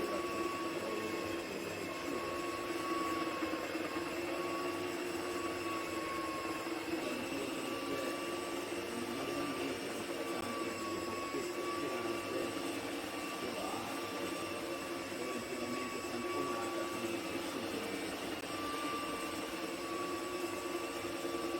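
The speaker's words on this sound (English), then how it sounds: "I spin the polishing pads for a couple of minutes over the freshly spread powder." Marble polisher with a plugged suction mouth spinning polishing pads over freshly spread powder on marble, a continuous steady whirring hum with a faint high whine, even and unbroken throughout.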